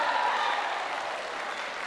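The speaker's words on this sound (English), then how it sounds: "raptures of applause from the crowd after that point" Steady, loud applause from a badminton crowd at the 2023 English Open, a dense wash of clapping that holds evenly for two seconds and fades only slightly at the end.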